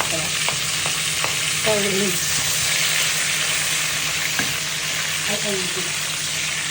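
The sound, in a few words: sautéing onion and tomato in a pan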